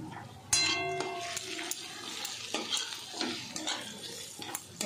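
Grated garlic and ginger hit hot oil with fried onion for a dhaba-style tarka, a bright sizzle that flares as they drop in, then a steady frying hiss with spatula scrapes and clinks close by.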